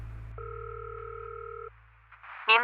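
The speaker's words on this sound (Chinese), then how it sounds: "我现在给他打一电话，咱们问问他不就完了吗？" Telephone ringback tone from an outgoing call: one long two-tone purr over a low hum, then a click and the start of a recorded voice answering.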